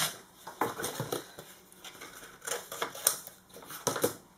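A NOZ mini sewing machine stitching through paper, giving a close, irregular mechanical clatter of needle strikes in short uneven bursts, fairly quiet with no talking.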